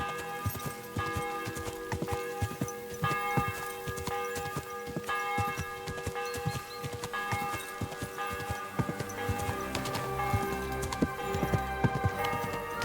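Steady rhythmic clip-clop of horse hooves in Kingdom Come: Deliverance 2 trots along continuously over a sustained musical drone, with the hoofbeats close and prominent throughout.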